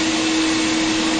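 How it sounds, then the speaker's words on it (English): Wet vacuum running steadily while sucking up flood water pumped from a flooded building, a loud close continuous motor whine with a constant tonal hum and rushing air, no voices. "The water goes into the vacuum."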